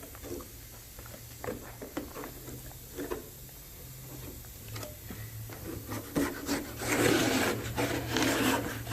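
Plaster cornice edges are cut and cleaned up with a tool, giving close, irregular scraping and rasping strokes that grow busier toward the end over a low background hum.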